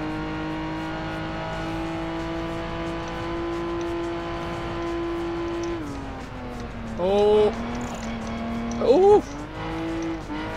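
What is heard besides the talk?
race car engine and tyres in Project Gotham Racing 4 video game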